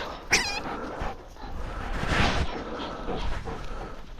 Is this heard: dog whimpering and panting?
yes